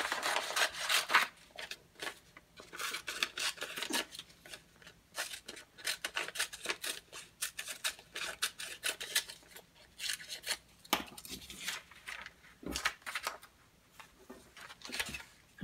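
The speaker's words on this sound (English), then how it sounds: "we're going to cut the pieces. Let me just cut them out." Scissors snipping through sublimation card stock, a steady run of close, crisp cuts with brief pauses between bursts, fairly quiet and with no talking.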